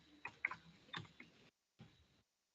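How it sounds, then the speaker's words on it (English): Soft keystrokes on a computer keyboard while entering a LaTeX document, an irregular cluster of faint clicks followed by a pause and a last brief burst of taps. "And here you can start typing"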